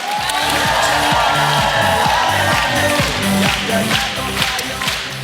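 A theatre audience applauds and cheers at a comedy show, a dense steady roar of clapping over music, with voices mixed in.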